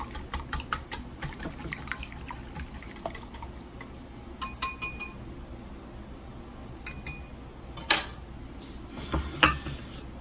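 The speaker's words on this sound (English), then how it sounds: "I'm going to whisk these up well." Eggs being whisked in a bowl for stuffed French toast, with quick clusters of light metallic clinks and taps against the bowl, separated by quiet gaps.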